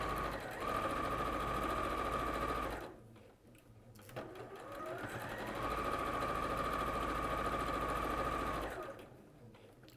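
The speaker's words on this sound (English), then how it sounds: "So then I'm going to sew along, again with the 1/4 inch seam." A sewing machine stitches a quarter-inch quilt seam in a steady, close whirring run, stops briefly, then runs again before halting near the end.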